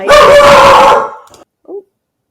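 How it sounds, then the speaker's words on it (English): A dog lets out one loud, close, drawn-out bark-howl, then a short quieter yelp follows. "Sorry about that barking. That was my dog."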